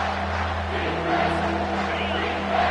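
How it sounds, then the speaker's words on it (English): A football stadium crowd roars steadily as it tries to spur the defense to a red zone stop, a dense sustained swell of many voices that rises slightly toward the end. "This crowd is trying to inspire this defense to make a big red zone stop."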